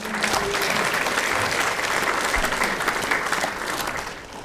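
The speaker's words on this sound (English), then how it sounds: "Do I get a little applause for that?" Steady applause from a crowd fills the whole stretch, dense and continuous, easing off slightly near the end.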